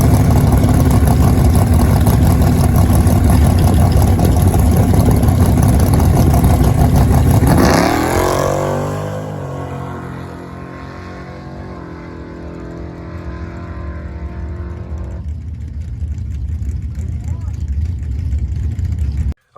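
A Barracuda drag car roars through a pass on stock bump stops, its engine loud and raw at full throttle before the pitch drops as it backs off and fades into the distance, leaving a low, lingering rumble.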